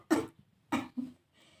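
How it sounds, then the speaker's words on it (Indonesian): A woman coughs, giving three short, close coughs, the first strongest, followed by a faint breath. "Priska terbatuk-batuk di sela-sela menghirup napasnya dengan ketegangan"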